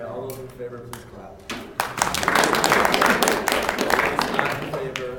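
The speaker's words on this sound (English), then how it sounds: "all those in favor, please clap" Students at a student senate meeting clap to approve a unanimous vote, a dense burst of applause that swells after about two seconds and continues steadily to the end, with a few voices mixed in.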